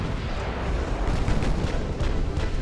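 Six-inch naval guns fire during a battle in Ultimate Admiral Dreadnoughts, a dense run of heavy booms. The blasts come close together over a low rumbling roar.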